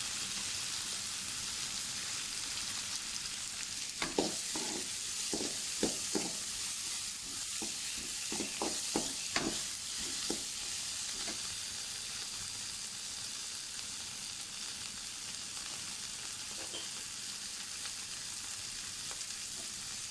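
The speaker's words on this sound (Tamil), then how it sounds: "ஒரு வெங்காயம் ஒரு தக்காளி ஆட் பண்ணிக்கிட்டு வதக்கணும்." Onion and tomato fry in a pan for a mushroom dish with a constant, even sizzle. A run of light clicking stir strokes sounds midway, then the frying continues alone.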